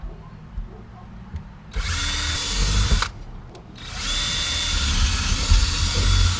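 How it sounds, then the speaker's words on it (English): A power drill bores a hole through the cab of an LMTV military truck, two loud whirring runs with a brief pause between, over a low background rumble. "I drilled a bigger hole"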